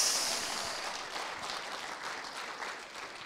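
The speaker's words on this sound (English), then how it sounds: "come on, clap for Jesus." Church congregation clapping for Jesus during a worship service, a dense, steady wash of applause that starts loudest and gradually eases off, with no voices rising above it.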